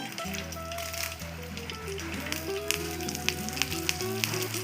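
Curry leaves and urad dal spluttering in hot coconut oil in a pan for Mangalore-style cucumber curry, a steady close sizzle flecked with small popping crackles.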